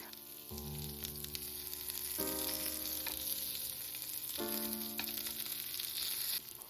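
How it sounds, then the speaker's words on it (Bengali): Garlic and red bell pepper fry in a pan with a steady, close sizzle. Stirring clatters through it, and there is no talk. "রসুন আর রেড বেল পেপারটা খুব ভালো করে ভেজে নিলাম"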